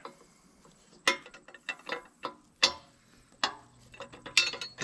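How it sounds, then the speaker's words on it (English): A new ratchet wrench turns a 1 inch grade 8 bolt on a skid steer quick-attach, giving close clicking pawl bursts and metallic ticks in an irregular rhythm, fairly quiet, no talking. "Get to use my new wrench."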